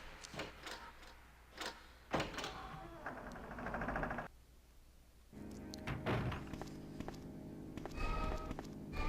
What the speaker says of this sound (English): Looks like the zombies learn to open doors now